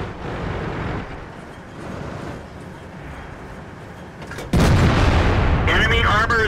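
Tank main gun fire in a combat video game, a loud blast that cuts in abruptly over engine rumble and battle noise, followed by a continuing roar with a voice near the end.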